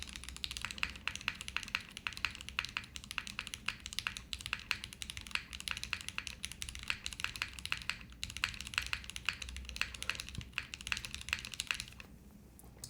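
Rapid, steady clatter of typing on a Haven TKL mechanical keyboard, close and crisp, with dense keystrokes that run continuously before briefly thinning out at the end.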